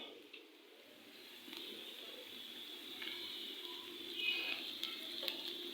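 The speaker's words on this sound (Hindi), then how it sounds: "प्याज हो गए हमारे फ्राई" Onions frying in a pan give a faint, steady sizzle with occasional stirring scrapes, with no voices.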